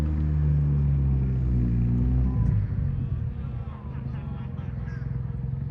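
An A12 GTS supercar in bright green pulls away on a New York street, a loud low engine rumble at first that fades as it leaves, with lighter traffic noise trailing behind.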